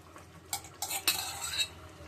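A spoon stirs and scrapes through egg curry made with peas and onion, giving a few separate clinks and scrapes against the pot that stand alone.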